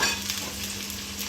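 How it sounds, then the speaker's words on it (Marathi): Cabbage stir-frying over a high gas flame, a dense, steady close-up sizzle with faint scraping of stirring throughout. "हाय स्पीडवरच गॅसवर ठेवा। 2 मिनिटांसाठी परतून घ्यायचं।"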